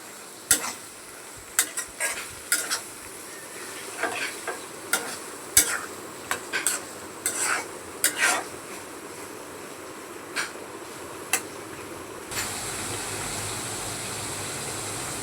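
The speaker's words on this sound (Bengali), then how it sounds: "টমেটো কুচিগুলো ভালোভাবে কষিয়ে নিব" Chopped tomatoes sautéing in a pan, with scattered sharp clacks of a spoon against the pan over a low background sizzle, the scraping thinning out toward the end.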